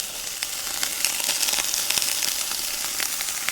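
Bratwurst and vegetables sizzle and crackle steadily in a hot pan, with scattered pops over a constant frying hiss.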